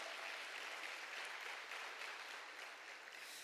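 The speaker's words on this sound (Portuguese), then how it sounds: "Aplauda o Senhor." A church congregation claps together in sustained, dense applause, an even wash of many hands that continues for the full few seconds with no voices standing out.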